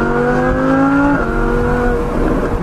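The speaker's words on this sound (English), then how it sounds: "Oh, the crackles." An Audi MK2 R8 V10 Plus with an aftermarket Valvetronic exhaust and no ECU tune revs up loud and close, its rising engine note falling off into a burst of popping crackles.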